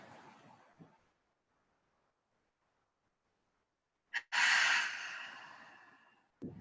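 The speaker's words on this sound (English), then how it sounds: "One more time, breathing side to side." Deep breathing exercise, side-to-side rib breathing: a loud, close, drawn-out breath with a brief snort at the start and a slow fade, following quiet.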